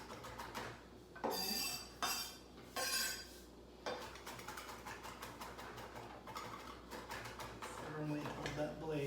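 A knife runs through a pile of rosemary and thyme together, making a series of close, crisp chops with short gaps and bursts of rapid strokes.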